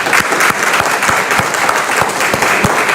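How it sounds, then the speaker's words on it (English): Sustained audience applause follows an inaugural academic lecture in 2021: dense, steady clapping from a hall full of listeners with no voices over it, holding at an even, loud level throughout. "let's give her another round of applause for a great talk"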